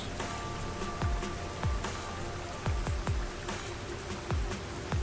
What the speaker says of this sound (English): You know, I almost wouldn't mind a city that rains like this.